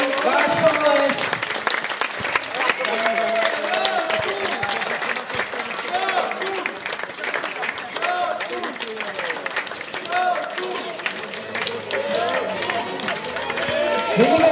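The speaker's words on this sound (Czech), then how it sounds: "družstva si zaslouží váš potlesk." Audience applause after a men's team bronze-medal match at a national championship, sustained clapping with crowd noise and chatter throughout, while an announcer's voice carries over the top.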